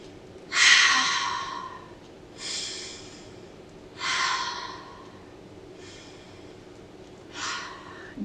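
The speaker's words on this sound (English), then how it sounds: "Let's just take 3 deep breaths before we begin." Slow, deep breaths in and out, three long exhales spaced a couple of seconds apart with a few softer breaths between, close and quiet in a calm room during a children's mindfulness storytime.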